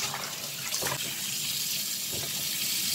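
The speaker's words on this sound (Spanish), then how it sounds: "Vamos a lavarlo para que no le quede tanto tufo." Tap water runs steadily into a kitchen sink while turkey necks are rinsed under it, a loud continuous gush with brief splashes, heard up close and without talk.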